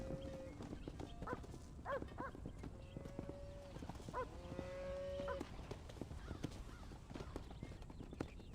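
Cattle in the video game Red Dead Redemption low several times on a ranch, with drawn-out moos spaced across the stretch over a soft outdoor bed and faint hoof clatter.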